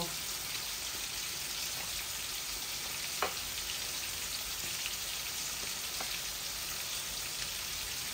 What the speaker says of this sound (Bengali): মাছগুলো একটু কড়া করে ভাজতেছি আজকে